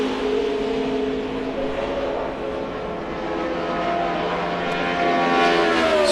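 A NASCAR Nationwide Series race car at Charlotte runs a qualifying lap, its engine holding a steady, loud droning roar with rising and falling harmonic whine throughout, no voices over it.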